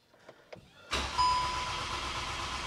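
Skoda Octavia 2.0 TDI VRS diesel engine fired up for the first time after repair, a few faint clicks and a chime, then the engine catches abruptly and settles into a steady, fairly quiet idle.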